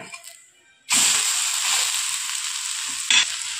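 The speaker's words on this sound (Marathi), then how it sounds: "आता उत्तप्पा आपण पलटून घेऊ।" A rava uttapam hits the hot pan after being flipped and sets off a sudden loud, sustained sizzle that carries on steadily, with a brief scrape near the end and no talking.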